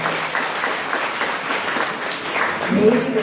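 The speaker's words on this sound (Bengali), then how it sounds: "তাদের জন্য এবার একটা জোরেই হাততালি দাও।" Audience of freshers and guardians at a dental college welcome event breaks into a burst of applause, a dense crowd clapping throughout, with voices mixed in.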